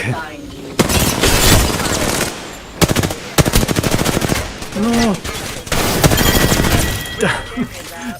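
Rapid bursts of automatic gunfire in Apex Legends on PS5, several volleys separated by short pauses, with a voice speaking briefly between shots.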